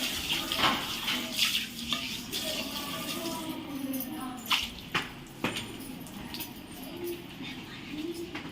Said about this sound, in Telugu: డైలీ నువ్వేనా ఇక్కడ ట్యాప్ ఆన్ చేసేది?